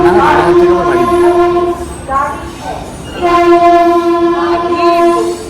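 A Krishnanagar local train pulls into a station, its horn blaring loud and close in two long blasts separated by a short gap, over the rumble of the arriving train.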